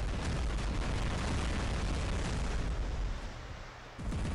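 Orkan rocket explosions from a War Robots battle, a dense, continuous barrage of loud booms and blasts that fills the scene, briefly dipping before surging again near the end.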